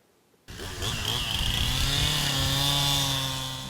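A chainsaw at the Chainsaws and Chuck Wagons event in Frederick roars into life after a brief quiet start, then holds a loud, steady, sustained engine whine for several seconds.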